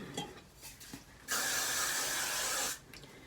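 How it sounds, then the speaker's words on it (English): Got2b hairspray sprayed onto hair in one steady, loud hissing burst lasting about a second and a half, alone in a quiet room with faint handling noises before and after. "So I spray the Got2b"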